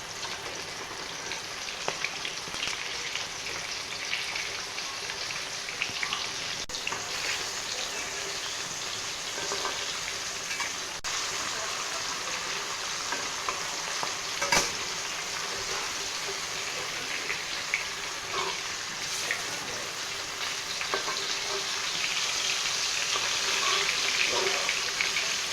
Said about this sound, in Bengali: মাছগুলো এখন আমি আস্তে আস্তে উল্টিয়ে দেবো।